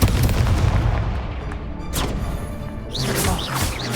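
Magical spell explosions from Expulso and Confringo curses in the Hogwarts Legacy video game: loud booming blasts with crashing debris, one after another, filling the whole four seconds.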